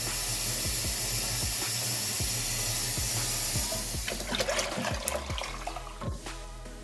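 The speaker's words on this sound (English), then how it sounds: "I'm going to add a good amount of water to this" A steady rush of water pours into a pot of black beans, hissing and splashing up close, with a few soft knocks underneath.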